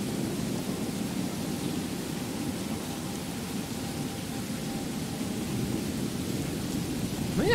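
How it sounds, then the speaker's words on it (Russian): Steady rain in the Skyrim game world near Whiterun, a dense even hiss with low rumbling underneath, holding at a constant level throughout with no voices. "Клянусь, около Вайтрана всегда идет дождь."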